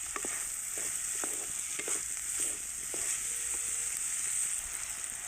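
Bitter gourd pieces fry in oil with masala for a tamarind kuzhambu, giving a soft continuous sizzle with light, irregular scrapes of a spoon stirring the pan.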